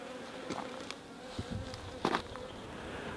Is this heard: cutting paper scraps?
no